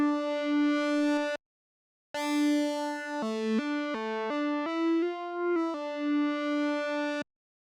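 A buzzy, harmonically rich Moog-style synth lead plays a short stepped melody with gritty analog overdrive distortion, pausing briefly between phrases, loud and alone.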